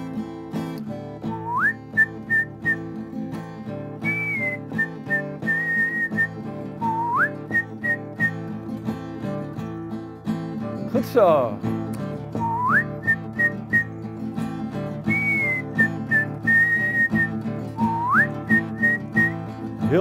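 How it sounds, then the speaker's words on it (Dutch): Group whistling along to a song in a Dutch village broadcast, repeated bird-like rising whistle phrases over music, fairly close, with a brief spoken remark. "Kunnen jullie ook fluiten? Fluit dan maar met ons mee."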